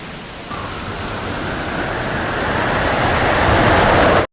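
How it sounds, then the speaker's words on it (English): Steady pouring rain foley for an anime film, a dense, even hiss that swells slightly louder over a few seconds before cutting off abruptly. "adding crisp foley of pouring rain to most of the scenes"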